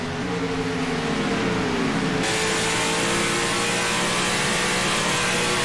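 NASCAR stock cars race at Chicagoland Speedway, a loud, continuous engine roar with pitch sweeping as cars pass, alone with no talk.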